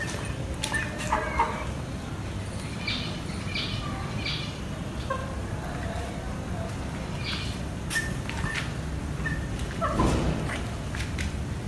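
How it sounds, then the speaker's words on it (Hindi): Chickens let out of their coop cluck and call in a busy outdoor yard, several birds at moderate distance over a constant background hum. "ये मैंने मुर्गियाँ निकाल दी हैं और ये मुर्गियाँ हैं निकल चुकी हैं"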